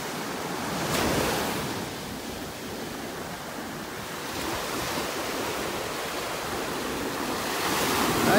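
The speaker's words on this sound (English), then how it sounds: "Looks like the waves are starting to kick up." Gulf of Mexico waves break and wash onto a beach at Naples, Florida, a soft steady roar of surf with swelling surges and wind rushing across the microphone.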